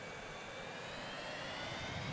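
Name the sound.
airplane flying past in the video game Transport Fever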